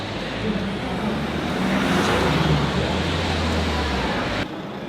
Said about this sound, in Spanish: En un coche oficial.